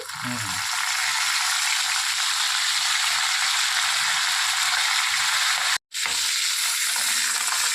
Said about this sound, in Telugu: తాలింపు చక్కగా ఎర్రగా వేగిపోయింది కదా